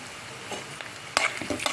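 Onions and garlic-rich spice paste with a little turmeric fry in a pan for a tasty dondakaya ullikharam, a soft steady sizzle broken by a few sharp scraping stirs near the end.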